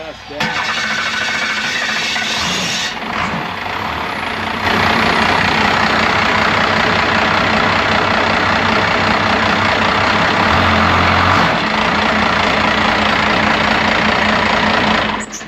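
A first-generation Cummins diesel engine runs just after its first start in years, giving a loud, continuous close-up rumble with a rising turbo whine, while someone talks over it.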